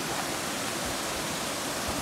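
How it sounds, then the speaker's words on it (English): Water spilling over rocks at a waterfall near Thirlmere makes a steady, dense rushing hiss that holds unbroken and fairly loud throughout, with no voices. "you kind of got a flow of water that goes over"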